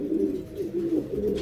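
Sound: pigeon cooing in a pigeon loft

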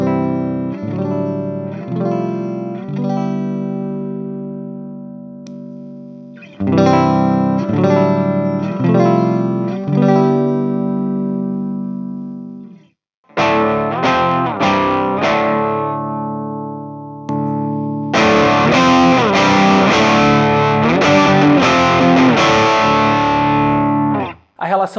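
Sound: electric guitar boost effect increasing saturation

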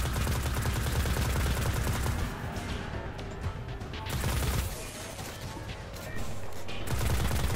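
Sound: gunfire with heavy recoil in the video game Destiny

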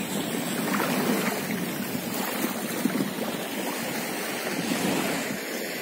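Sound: sea waves and light breeze, Azov Sea shore

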